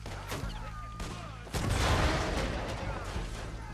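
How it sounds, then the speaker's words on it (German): A stick of dynamite detonates in Red Dead Redemption 2: one loud, close blast lands midway and rolls into a rumbling decay, with quieter game ambience before it. "ich schmeiß mal Dynamit da drüber."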